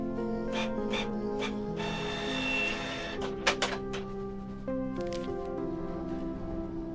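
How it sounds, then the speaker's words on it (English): Printer printing pages in the video game Kathy Rain 2; a mechanical whirring and buzzing with clicky feed strokes, heard over steady background game music with a few brief knocks. "I'll have these printed."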